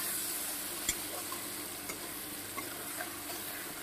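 Fish oil fries in a pan as a soft, even sizzle, fairly quiet, with occasional faint clicks and taps.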